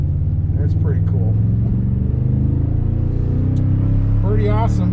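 A truck drives by as a loud, steady low engine rumble that fills the clip, with a voice talking over it.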